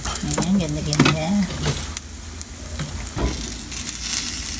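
Meat sizzling in an uncovered pan over the heat, a steady frying hiss under a voice talking, with occasional clicks of a spatula.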